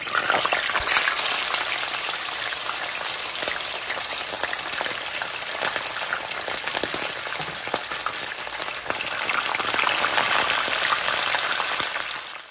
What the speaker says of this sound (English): So now we're gonna go ahead and fry our fish.